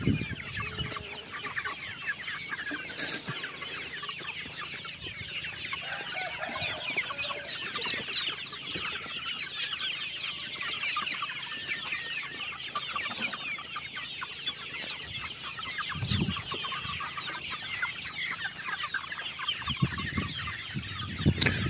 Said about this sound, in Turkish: Haddinden fazla tavuk var be.